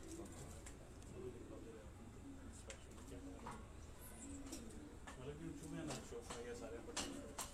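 Pigeons kept by household staff at a residence cooing softly in the background, low repeated coos under a constant ambient hum, with a few faint chirps and occasional clicks.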